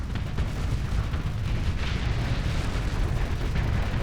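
Heavy ship cannons fire shells in a continuous, dense barrage in the space combat game Starsector, a loud rumbling roar of overlapping booms with no clear gaps and no voices.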